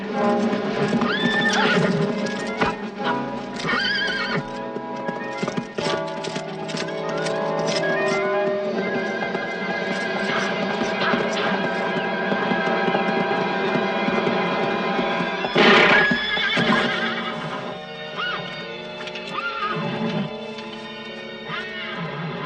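Horses whinny repeatedly over steady clopping hooves, loud and close, with a busy crowd-like din throughout, from a 1968 film set during the English Civil War.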